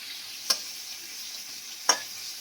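Prawns fry in oil in a pan, giving a soft continuous sizzle with two sharp stirring clicks spaced about a second and a half apart, close by and with no voices.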